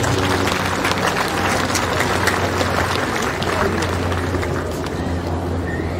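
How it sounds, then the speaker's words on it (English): Sustained audience applause at a graduation ceremony honoring graduates' families and guardians, a dense continuous roar of many hands clapping in a large crowd, steady and loud throughout. "I invite you to applaud your family and your guardians"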